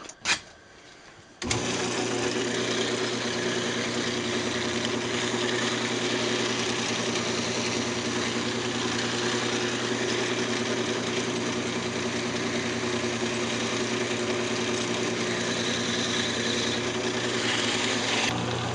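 A wood lathe spins a redwood Christmas ornament during sanding. After a short clatter at the start, a steady mid-pitched motor whine with a droning hum runs close and unbroken.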